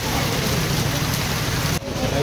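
Heavy rain pours down steadily in Puri as a dense, continuous hiss that fills the scene, loud and close.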